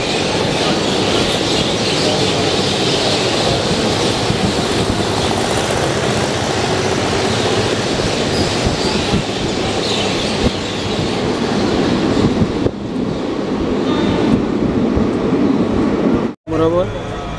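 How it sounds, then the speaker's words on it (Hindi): Vibhuti Express passenger train rolling into Barddhaman Junction, a loud steady rumble of carriages and wheels heard from on board, with rattling and squeals, voices talking over it. "तो अपनी ट्रेन अभी बर्धमान जंक्शन रुक चुकी है।"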